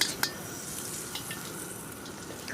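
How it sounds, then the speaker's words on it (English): Curry leaves stirred into onions and tomato frying in oil in a pot, giving a steady soft sizzle with a brief clatter near the start, no voices. "where I've already got onions and tomato frying away in oil"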